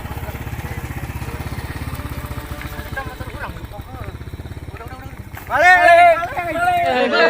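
A motorbike engine revs steadily and close, its pulsing drone running under voices before fading as the bike is ridden off by a thief, then excited shouting takes over.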